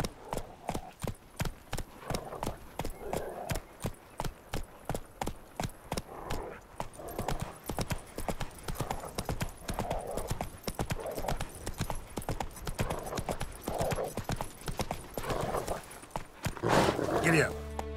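Horse hooves clip-clop at a steady walking rhythm in The Witcher 3, close and regular, with a rider's voice speaking over them and a brief neigh-like sound near the end.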